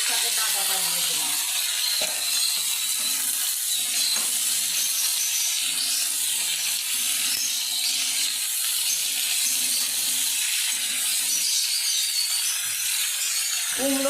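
Lote greens stalks hit a hot pan of reddened shrimp and onion and set off a loud, continuous close sizzle that holds steady throughout, with faint clinks underneath.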